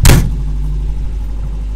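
A Renault 4L engine starts with a sharp burst, then settles into a low, rough, tractor-like idle that stays close and steady.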